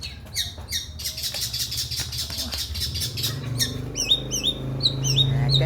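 A pentet shrike calls from nearby with harsh, scratchy chatter and squawks. Sharp repeated chirps follow later over a low background hum.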